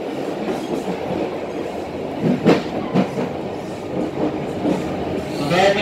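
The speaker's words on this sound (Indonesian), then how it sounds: "Beberapa saat lagi kereta api Kemakal segera tiba di stasiun akhir Merak." Local commuter train pulling into Merak terminal station at the western tip of Java, with steady rolling rumble and scattered wheel clacks and squeals building toward the end, fairly close and continuous.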